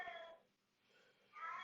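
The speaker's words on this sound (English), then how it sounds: "you hear my cat yelling" A cat meows twice, faint and from another room, as it yells to be let into a bedroom. The cries are drawn out with a short quiet gap between them.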